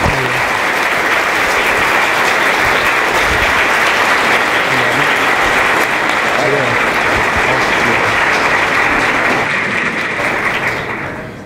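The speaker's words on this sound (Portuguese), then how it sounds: "Eu peço uma salva de palmas com vocês" Sustained applause from a lecture audience welcoming an astrobiologist to the stage, dense and steady throughout before tapering at the end.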